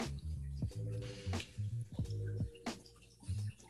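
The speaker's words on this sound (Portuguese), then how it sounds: "E vai ter um momento aqui que ele vai mergulhar." Water splashing and dripping in an aquarium as a snake dives under the surface, several irregular wet plops and drips at close range with no talking.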